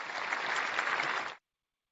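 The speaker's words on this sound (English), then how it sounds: "look for my applause sound effect and get that ready to applaud you" A canned crowd-applause effect plays as a bright, even wash of many clapping hands that holds steady, then cuts off abruptly before the end, leaving silence.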